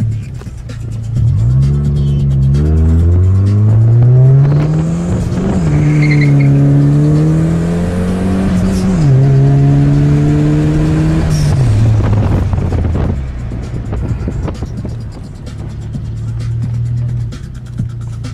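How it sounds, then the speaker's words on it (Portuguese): A turbocharged Chevrolet GSI car engine revs repeatedly, loud and close, rising and falling in pitch through several throttle blips before settling back toward idle. "Carro turbo é outro esquema."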